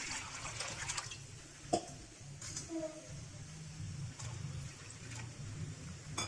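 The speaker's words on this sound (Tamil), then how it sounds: "அதுக்கு தேவையான அளவு தண்ணி ஊற்றிக்கலாம்." Water splashes and pours into a cooking pot with a low, hollow rumble, broken by a few clinks and knocks of handling.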